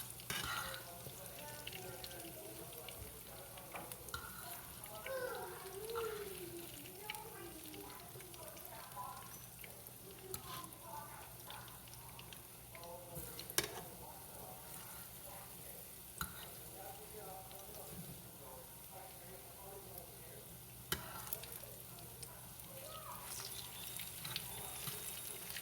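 Sliced ribeye pepper steak frying in a pan, a low, continuous sizzle with occasional clicks and clatter while a person talks over it throughout.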